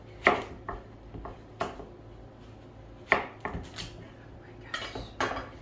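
A knife works through the very tough rind of a large watermelon, giving irregular sharp cracks and thuds against a board, several loud hits spaced unevenly over a few seconds with quiet gaps between.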